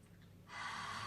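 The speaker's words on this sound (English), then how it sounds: "Breathing in through the nose." One deep breath drawn in through the nose during a yoga grounding exercise, a soft rushing inhale that starts halfway through and holds steady, quiet and close.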